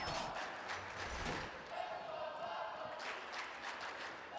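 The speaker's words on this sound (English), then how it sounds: "Can hear the crowd there" A stadium crowd at a Gamers8 2022 esports match makes a dull, steady roar that stays distant and continuous, with no clear claps or shouts standing out.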